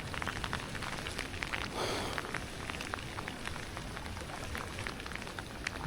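Rain pours during lure fishing outdoors, a continuous soft hiss of drops pattering on surfaces, faint and even with no talk.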